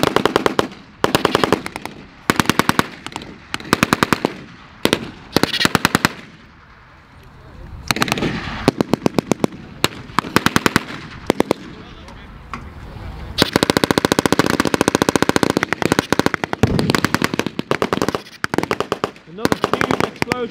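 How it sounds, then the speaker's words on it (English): Machine-gun bursts and rapid gunshots crackle at a tank battle reenactment with Axis forces, dense rattling volleys interspersed with pauses and booming blasts, loud and close, with someone speaking intermittently over the fire. "You can hear the explosions going off."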